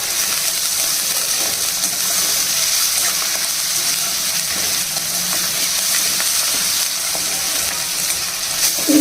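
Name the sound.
onion pieces frying with salt in a pan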